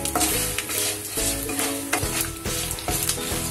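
Whole spices dry-roast in a pan for a Khandeshi patodi rassa and are stirred steadily, making a loud close scraping and rustling with a soft sizzle beneath, repeated in rhythmic strokes and free of talk.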